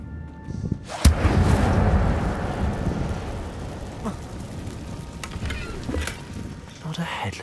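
A fire spell cast by a wizard in a game unleashes a sudden loud whoosh that flares into a sustained roaring, crackling burn, with sharper pops and bursts scattered through it.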